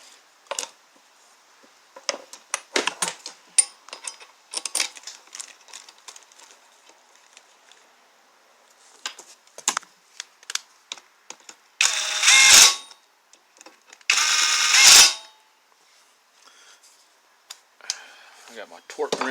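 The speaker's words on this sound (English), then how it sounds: "Run my bolts down." A ratchet runs down bolts on a 2AZ-FE Toyota Camry engine during a crank and piston rebuild. It gives close, intermittent clicking runs, broken by two louder hissing bursts and a few handling clunks.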